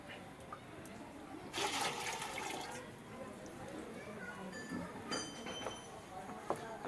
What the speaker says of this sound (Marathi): 2 लिटर गोमूत्र टाकूया.